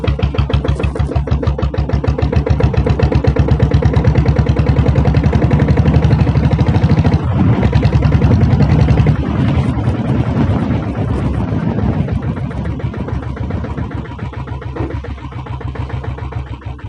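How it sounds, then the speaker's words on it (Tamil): A 7.5HP diesel Bullet motorcycle engine idles close by with a rapid, even, heavy thumping beat that holds steady throughout, easing slightly softer toward the end. "வண்டி ஸ்டார்டிங் இன்ஜின் கண்டிஷன் எல்லாமே பார்த்துருப்பீங்க"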